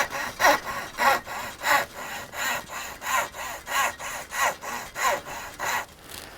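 A hand saw cuts through the wood of a Harley Benton electric guitar kit, with about a dozen steady, rhythmic rasping strokes, close and clear, trailing off at the end.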